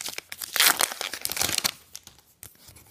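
A foil Topps Star Wars Rogue One retail card pack is torn open up close, with a few seconds of loud crinkling and tearing that trails off into small rustles.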